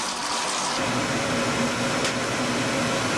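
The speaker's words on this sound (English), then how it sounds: "we've got the oil furnace burner running, and we've got the hot water heater burner running." An oil furnace burner and a hot water heater burner run together in a house, giving a steady, close mechanical roar with a low droning hum that stays even throughout, with no one speaking.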